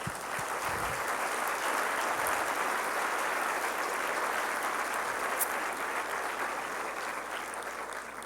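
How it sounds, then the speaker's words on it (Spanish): An audience at a church service claps together in a broad, sustained round of applause that stays steady and even for the full stretch, with no voices standing out. "Démosle un aplauso al Señor."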